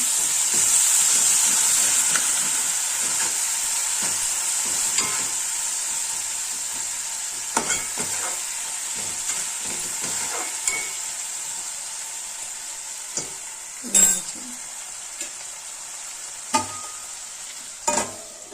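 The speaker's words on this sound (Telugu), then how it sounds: "బాగా కలుపుకోవాలి" Spiced sweet corn mixture sizzles and fries in a pan with a steady bright hiss, while a spoon stirs through it, leaving scattered scrapes and clinks against the metal that grow more distinct toward the end.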